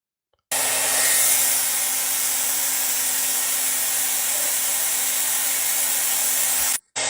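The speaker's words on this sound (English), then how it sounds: "He's got a blow dryer on the fan, all just to play NBA 2K25." A hair dryer blasts a loud, steady roar onto the exposed cooling fan of a PS4 with its outer shell removed. It starts abruptly, holds constant with a low hum underneath, and cuts out briefly just before the end.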